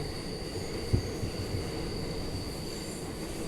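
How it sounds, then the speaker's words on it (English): An R179 car on a New York City A express train runs between stations, with steady rolling rail noise, a thin high whine, and a couple of soft thumps from the wheels. "I am on the 207th Street bound A express train where we left Fulton Street."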